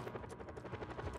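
Helicopter in the video game Just Cause 4, a steady rhythmic rotor thump with a broad whine, fairly faint and continuous over a short stretch.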